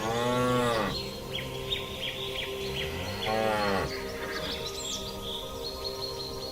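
A herd of Cape buffalo lowing in the wild, with two deep, drawn-out moos close by, each lasting about a second, and faint bird chirps in the background between calls.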